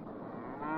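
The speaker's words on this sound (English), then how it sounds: "Mr. Andersen's herd belongs to a breed called Danish Red." A Danish Red dairy cow on a Danish farm lets out a low, droning moo that swells toward the end, heard close and alone without talk.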